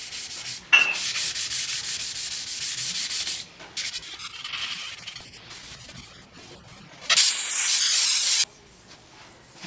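Hand sanding of car paint with 400 grit sandpaper, a close papery rasp in quick repeated strokes, pausing and resuming, with one louder, steadier stretch of scrubbing near the end.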